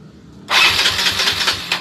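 A Yamaha Mio Soul motorcycle with a hard-starting fault fires up after a short silence, the engine catching abruptly and running loud and close in an uneven burst for over a second.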